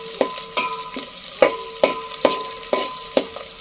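Curry leaves and ginger-garlic paste fry in hot oil for a jackfruit curry, a sharp close sizzle cut by eight evenly spaced crackling pops or stirring strikes, loud and with no voices.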